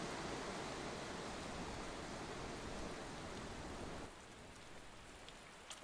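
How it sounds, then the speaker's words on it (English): Steady rain hisses evenly throughout a scene in the video game Tales of Berseria, dropping slightly in level partway through and continuing softly without any talk. "Of course it's raining."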